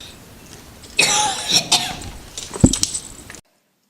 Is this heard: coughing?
yes